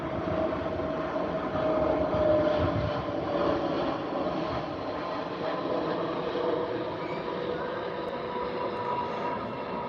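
An airliner departing Heathrow runway 09L in the evening roars with a broad, steady jet rumble from a distance, swelling slightly and then holding.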